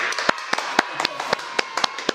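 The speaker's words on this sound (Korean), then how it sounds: "박수" Close, sharp hand claps, about a dozen crisp slaps in a quick, slightly uneven rhythm, heard alone over a quiet room with no talking.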